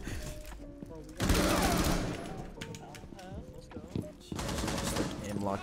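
Rapid automatic gunfire from Rainbow Six Siege, a tactical shooter match, with bursts of shots layered over a dense, busy game mix, louder in the middle and near the end.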